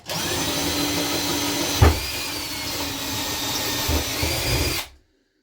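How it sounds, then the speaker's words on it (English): A diamond bit hole saw drills into a countertop while a vessel sink is being installed, giving a steady high whine with a grinding undertone that runs for about five seconds, with two brief louder bumps, then cuts off abruptly. "This is a diamond bit hole saw."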